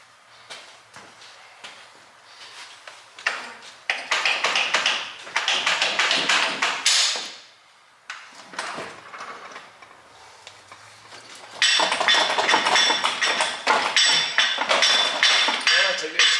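Under a car, a manual transmission mated to a 2JZ engine is worked loose, with metallic clunks, taps and scraping in uneven bursts, some passages louder and rattling, with quiet pauses between.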